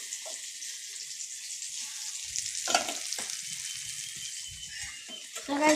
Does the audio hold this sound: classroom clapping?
no